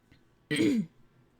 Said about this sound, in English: I'm also trying not to cough right on you